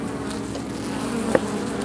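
Carniolan honeybees robbing a hive fill the air with a steady, moderately faint swarm buzz, many insects droning together with one brief closer buzz passing by.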